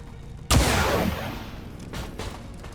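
A single loud gunshot fired in the XCOM 2 strategy game cracks sharply and alone, then rolls off in a long, fading tail with a faint rumble afterward.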